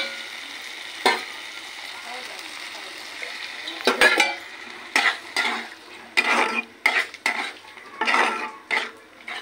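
A spoon scrapes and stirs through ground poppy seed paste with sesame and chili, mixed into ridge gourd, potatoes and onion frying in a pan, giving irregular clanking strokes over a soft steady sizzle.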